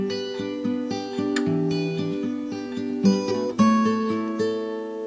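Acoustic guitar fingerpicking a phrase of Scarborough Fair, individual plucked notes ringing over sustained bass strings in an even flowing rhythm, close and clean with no voice.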